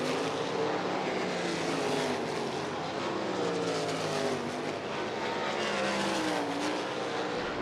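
Race cars at speed during a USAC hot lap session on Eldora Speedway's dirt oval, a continuous loud engine roar with shifting, overlapping tones as several cars circle together, steady throughout.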